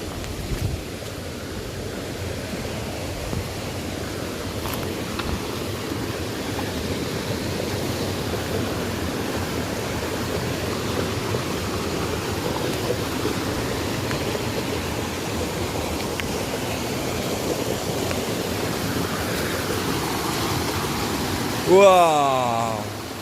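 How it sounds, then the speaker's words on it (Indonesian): Steady broadband rush of a clear river flowing through deep jungle interior, continuous and fairly close, with a brief louder surge near the end and no talk. "Sungai yang sangat jernih."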